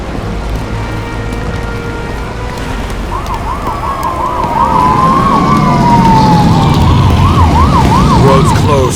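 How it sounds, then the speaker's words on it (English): A police car siren wails in the video game Nobody Wants to Die, rising in a fast alternating yelp over rumbling ambient noise and growing louder and closer through the second half. "An APB for a police car was sent out automatically."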